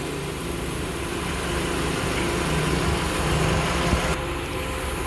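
Engine of a 2003 Honda CR-V with manual transmission idling steadily, a smooth continuous mid-low hum heard up close with no talk.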